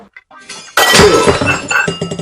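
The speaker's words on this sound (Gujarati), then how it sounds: "કેમ વાસણ બથોડા લેશો" Dishes crash and shatter in a home, a loud burst of breaking crockery followed by scattered clinks and rattling pieces settling, preceded by brief faint sounds.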